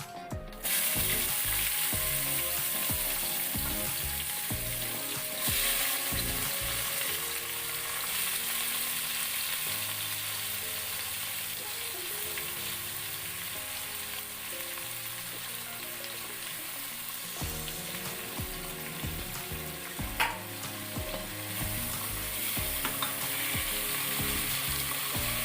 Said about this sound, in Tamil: இதை வதக்கிக்கலாம். இப்போ இது கூட வெங்காயம் சேர்த்துக்கலாம்.